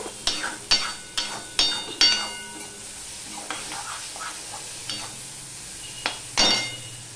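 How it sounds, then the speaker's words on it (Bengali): A spice paste for Bengali prawn curry is sautéed in a pan. A spatula clinks and scrapes in sharp, separate strokes over a low sizzle, with a few quieter stirs between them. "মশলাটা কষানোর জন্য একটু জল দিয়ে দিলাম।"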